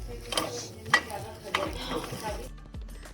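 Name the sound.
frying egg fried rice in a pan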